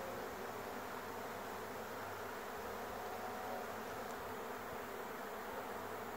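A swarm of bees outdoors makes a dense, continuous buzzing hum, steady and fairly faint, with no voices.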